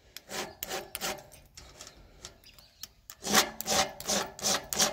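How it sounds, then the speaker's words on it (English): A metal hand file rasps steadily across a workpiece, a run of repeated close strokes that pauses briefly midway, then resumes louder and faster in rhythmic bursts, with no talk. "putting it on top and filing"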